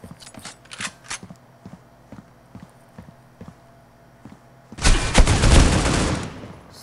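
M4 and AK rifles fire in a game: a run of evenly spaced single shots, then a loud sustained burst of rapid automatic fire that closes the clip.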